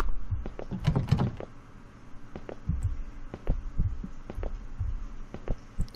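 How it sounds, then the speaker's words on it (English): Slow, steady heartbeat thumps in a spooky late-night office video game, repeating as soft low pulses under a faint hum, with a brief cluster of clicks and rattles near the start. "What's with the heartbeat for? What are you heartbeating about?"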